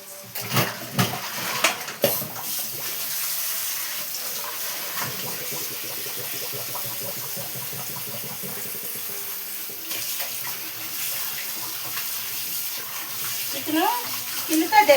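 Tap water runs steadily into a kitchen sink while skin-on chicken is rinsed and cleaned, a continuous splashing hiss with a few clatters at the start and a louder gush at the end.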